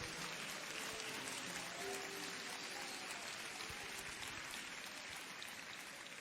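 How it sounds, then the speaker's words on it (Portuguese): A church congregation claps loudly and joyfully during an IPDA worship service, a continuous dense roar of applause with faint tonal sounds underneath. "dá uma salva de palmas bem forte, bem alegre"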